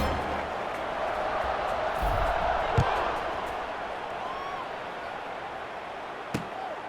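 Broad stadium crowd roar at kickoff in a college football video game, a steady dense wash of noise with a couple of sharp thumps, under a commentator's voice.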